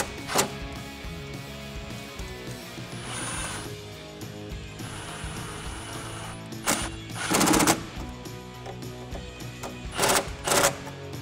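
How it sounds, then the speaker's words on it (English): Short bursts of an impact wrench tightening intake clamps with an 8 mm deep socket on a Toyota Tacoma cold air intake install, loud rattling hammering in several separate bursts over a steady background hum. "I am using an impact to save a little bit of time."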